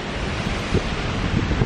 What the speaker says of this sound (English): The ocean's loud. The waves are hitting right now.